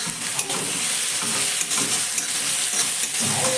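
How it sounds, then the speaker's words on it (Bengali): Finely chopped onions frying in a pan, a continuous close sizzle with soft stirring scrapes and a few clicks of the utensil against the pan, no talking. "পেঁয়াজটা খুব বেশি ভাজবো না, 2-4 বার মতো একটু নাড়াচাড়া করে নিয়ে"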